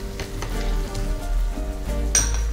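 Chicken pieces for achari chicken fry in hot oil that has separated in the pan, a steady close sizzle with crackling pops and a brief stirring scrape near the end.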